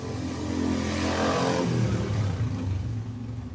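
Motorcycles rev outside on the street, a loud engine roar that swells, holds and then eases slightly over a few seconds, with no talking.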